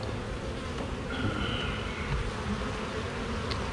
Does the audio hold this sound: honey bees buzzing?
yes